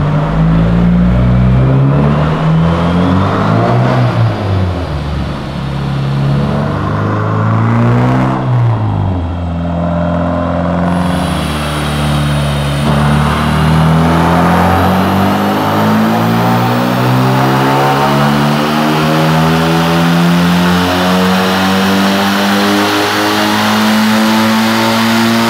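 BMW E30 with a turbocharged engine revving hard on a dyno, a loud continuous roar rising in pitch, dipping briefly, then climbing steadily again through a long sustained pull with no voices.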